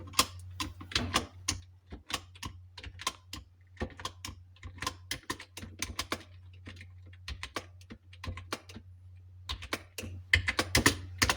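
Keys on the lower row of a computer keyboard clatter in quick, irregular bursts of close, crisp clicks with short pauses, as someone practises Hindi typing, with a steady low hum beneath and no talking.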